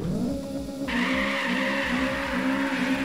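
Tires squeal on a turbocharged Toyota Trueno AE86 in the racing game Apex Point, a sustained skid over a steady engine drone that holds loud for about three seconds.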